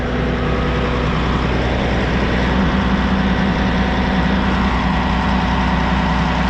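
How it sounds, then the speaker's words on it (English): A roughly 500-horsepower Cat diesel engine powers a hay buster straw shredder on a farm, holding a loud, steady, deep idle-like rumble from close range with no break. "It's got a cat engine on it. It's about 500 horsepower, that cat engine is."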